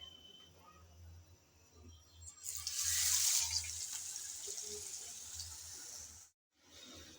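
Batter-dipped jute leaf fritters drop into hot oil, and a quiet background suddenly bursts into a bright, hissing sizzle that peaks and then settles into a steady frying hiss, cut briefly by a gap near the end.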